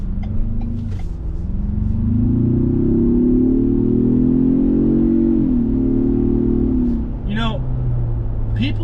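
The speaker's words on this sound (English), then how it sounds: "Give it some gas." A 2024 Ford Bronco Big Bend Sasquatch with a turbo engine revving up under throttle, a deep, loud rising drone close by that holds and then falls away, with a person talking briefly toward the end.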